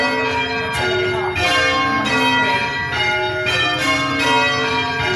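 Church bells at St Mary's church ring in a steady changing sequence, each bright metallic strike overlapping the ringing tones of the others, loud and continuous with no talking.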